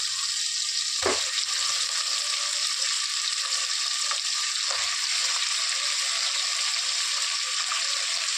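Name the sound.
mutton and tomato frying in oil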